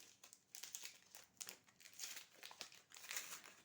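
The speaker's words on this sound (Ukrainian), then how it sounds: "Зараз я відкриваю пачку" Close, quiet crinkling and rustling of a paper packet of herb seeds such as basil or mint being opened, in short irregular crackles with a slight tearing edge and no speech.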